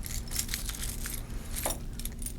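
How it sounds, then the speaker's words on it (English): A bunch of mosque keys on a ring jangles and clinks continuously up close, with bright metallic rattling bursts and no talking. "All these are masjid keys."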